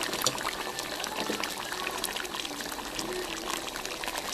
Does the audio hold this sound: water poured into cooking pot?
yes